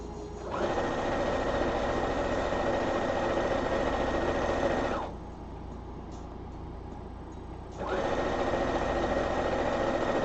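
Sewing machine stitching fabric in a steady mechanical run, close and even, stopping for a few seconds before resuming at the same pace.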